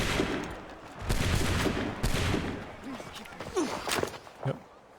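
A musket volley from the Assassin's Creed 3 video game rings out as a loud burst of overlapping shots followed by scattered cracks, while voices speak over the action.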